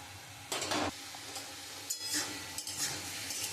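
Red amaranth leaves fry softly in a pan, with a spatula scraping and stirring in a few short bursts over a low, steady sizzle. Quiet and close, no voices.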